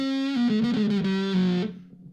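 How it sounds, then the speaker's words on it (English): A heavily distorted electric guitar through a Danelectro French Toast pedal, octave off, plays a short sustained phrase with a few note changes, thick and buzzy, then fades out; no talking. "now we switch the toggle into what you'd consider to be traditionally the on position. And it's just a plain"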